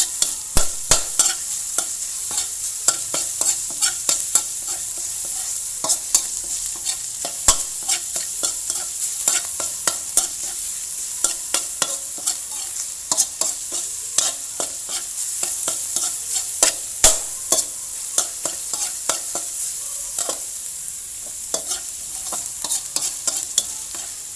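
Pork stir-fried with fried garlic in a pan, a constant bright sizzle broken by frequent rhythmic spatula scrapes and clanks, close and fairly loud, with no talking.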